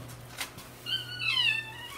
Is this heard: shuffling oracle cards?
no